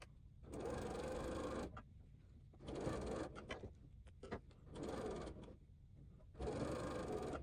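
Sewing machine joining two rows of quilt blocks, four short bursts of stitching with brief quiet gaps and faint handling noise between them.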